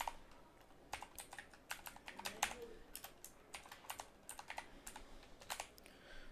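Quiet, steady typing on a computer keyboard, a rapid run of light key clicks with brief pauses, close and alone with no talk.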